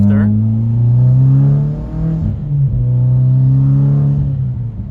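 A 2013 Mitsubishi Evo X GSR with a manual gearbox drones steadily from the cabin while driving, its engine note dipping briefly as if shifting gears before settling back into a loud, even hum.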